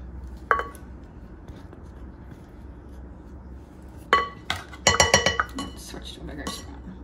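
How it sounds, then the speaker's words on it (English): A spoon clinks and scrapes against a bowl while banana and sour cream are mixed into banana bread cookie dough, with a lone clink early, then a cluster of sharp, close metallic taps and knocks near the end. "Now it says to mix in the banana and the sour cream."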